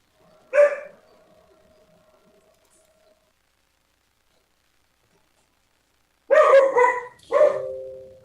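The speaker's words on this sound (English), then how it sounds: "If I can get my dog to shut up." A single dog bark lands early, followed by several seconds of near-silence, then a louder burst of overlapping barks closer to the end, with no talk over it.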